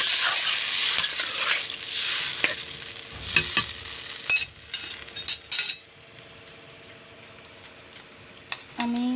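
Water poured into a pan of frying katla fish curry, first a loud hissing sizzle, then stirring with utensil clinks and scrapes against the pot as the bubbling settles, close up, no talk.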